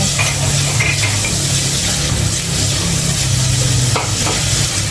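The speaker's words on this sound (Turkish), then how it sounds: "Ben biraz kavuruyorum" Ingredients for a meat and vegetable stew sauté loudly in a pan, a dense continuous sizzle with occasional light utensil clinks as they are stirred.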